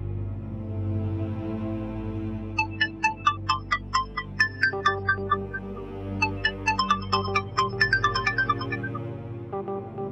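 An unanswered phone rings repeatedly over a steady low background hum, its bright electronic tone pulsing in two long bursts of quick beeps with a short pause between them.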